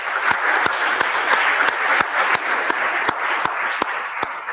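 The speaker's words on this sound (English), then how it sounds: "give yourselves a huge round of applause" Sustained applause from a hackathon audience at an IETF event, a dense steady wash of many hands with a few sharper claps standing out, continuous and fairly loud throughout.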